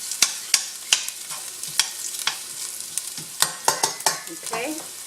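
Ginger sautéing in a pan until golden, with a steady sizzle and frequent sharp scrapes and knocks of a stirring utensil against the pan, close and without talk.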